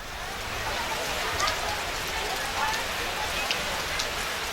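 Rain falls steadily over an outdoor temple area near Mount Agung in Bali where people put up tents, a dense even hiss of drops on surfaces with a few sharper patters, continuous and fairly loud.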